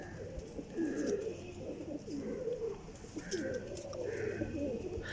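Pigeons coo softly and repeatedly in a loft of about fifteen birds, several low throaty calls overlapping at close range over quiet background noise.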